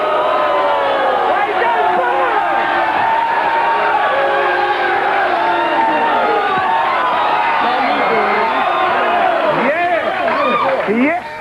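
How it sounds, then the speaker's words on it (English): A loud studio audience at a wrestling-themed talk show booing and jeering continuously, a dense wall of crowd voices with shouts rising through it, while a voice speaks over the noise. "Don't be booing!"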